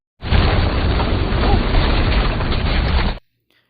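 A thrown explosive goes off near a truck trailer during a mine rescue, a loud sustained roaring blast that holds for about three seconds and then cuts off abruptly into near silence.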